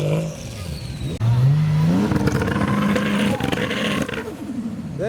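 A Toyota Chaser at a large car show, driven past with a loud, continuous engine roar and revving that rises in pitch, close by and filling the whole span, with crowd noise and other cars underneath.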